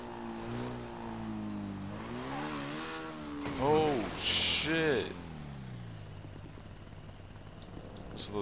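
Motorcycle engine in Grand Theft Auto 5 revving through a hard wheelie, a steady droning note that rises sharply in two loud surges mid-clip and then falls back, with voices talking over it throughout.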